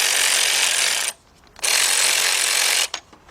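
A battery-powered big bill ratchet tightens bolts on a 2002 Dodge Stratus 2.4 engine during a timing belt and water pump job. It gives two loud, close, whirring bursts with a short pause between them.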